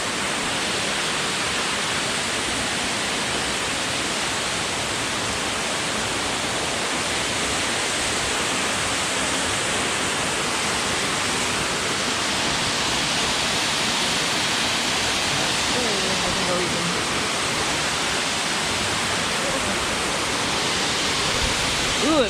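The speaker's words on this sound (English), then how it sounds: "One thing spring is really good for is awesome waterfalls." A spring waterfall roars in a constant, dense rush of falling water, steady and full throughout with no breaks.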